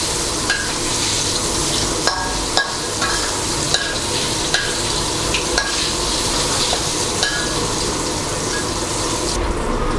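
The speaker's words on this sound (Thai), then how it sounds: "เราจะทอดให้เนื้อปลาเหลืองกรอบ" Snapper fish pieces frying in hot oil until golden and crispy, a steady dense sizzle with bubbling and occasional stirring clinks, loud and close throughout without talk.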